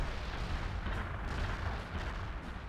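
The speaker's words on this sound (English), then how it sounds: "Hopefully that's not in danger zone of artillery that's apparently landing over here." Artillery barrage landing in the real-time strategy game World in Conflict: Soviet Assault, a dense, continuous roar of overlapping explosions and rumbling booms sustained throughout at moderate loudness with no talking.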